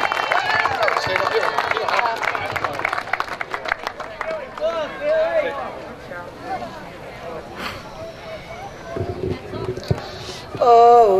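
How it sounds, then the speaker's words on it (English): Crowd at a Kings Park opening day parade applauding a student singer, a loud wash of clapping and cheering voices that thins after a few seconds into scattered claps and chatter. "Give her a round of applause"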